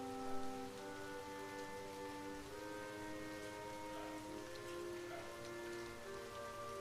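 Rain falls steadily on a hard surface, a constant soft patter with no voices, faint and even throughout.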